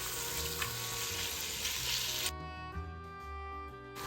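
Beef cubes for a homemade stew sear in a hot pan with a steady, loud broadband sizzle that cuts off abruptly partway through, leaving a quieter, thinner crackle with occasional stirring.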